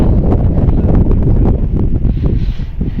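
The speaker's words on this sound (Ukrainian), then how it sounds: "Ох, і вітер, це капець." Strong wind buffets the microphone outdoors in a vegetable garden, a loud, continuous broadband roar with gusting surges and rustling, no voices.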